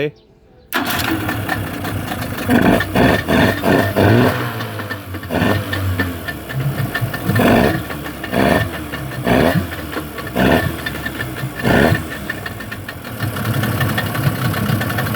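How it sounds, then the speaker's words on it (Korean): A 40 hp Yamaha two-stroke outboard motor with electric start starts up and settles into a steady idle, running continuously with some knocking pulses and background noise. "전동 시동 타입이라서 버튼만 누르면 시동이 걸립니다."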